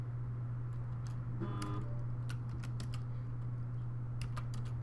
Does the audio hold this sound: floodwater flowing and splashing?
no